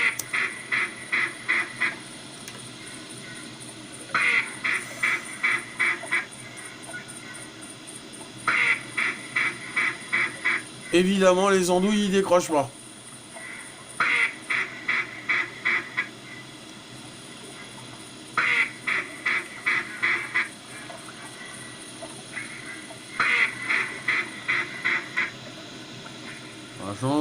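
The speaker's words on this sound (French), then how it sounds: "Ah, tiens, les canards qui se réveillent." A flock of ducks quacking at dawn during a duck hunt, bursts of rapid repeated quacks recurring every few seconds at moderate distance, with a brief burst of someone talking midway.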